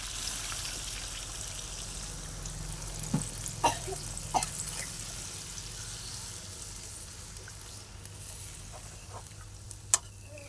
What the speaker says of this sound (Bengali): এই যে জলটা আমি দিয়ে দেবো